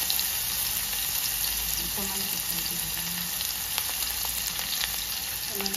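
Onion sautés in hot oil with asafoetida, mustard seeds and bay leaf, a loud, continuous close sizzle with faint scrapes and taps of stirring throughout.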